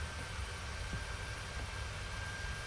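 Steady broadband jet airliner drone from a PMDG 737-800 in a flight simulator game, a continuous even roar with a faint high whine running throughout, no talking.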